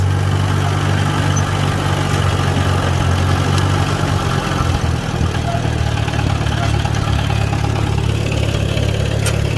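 A Farmall B tractor runs steadily through a garden, pulling Tilmor tender plant hoes, its loud, low, constant engine drone close by and unbroken for the whole stretch.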